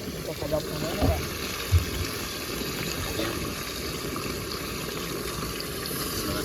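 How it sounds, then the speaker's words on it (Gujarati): Water pours steadily into a pot, a continuous rushing splash that stays close and fairly loud from start to finish. "આપણે મસ્ત મજાને નાખી દઈએ પાણી"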